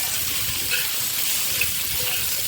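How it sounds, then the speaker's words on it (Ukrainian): Steady, close sizzling of rice frying in a hot pan for Ukrainian rassolnik soup, with faint stirring scrapes and no talking. "буквально 2 хвилинки обсмажуємо. Обсмажили трішечки наш рис"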